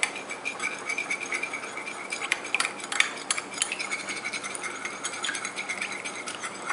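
Glue and borax mixture being stirred by hand to make a crosslinked polymer, a continuous close scraping and squelching rattle with rapid irregular clicks throughout.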